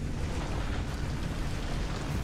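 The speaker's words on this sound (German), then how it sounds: "Links und rechts explodiert und kommt aus dem Boden." Explosions erupt from the ground on both sides in the Pacific Drive game, heard as a dense, continuous roaring rumble with no distinct individual blasts, loud and sustained.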